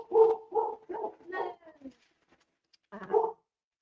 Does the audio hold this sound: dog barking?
yes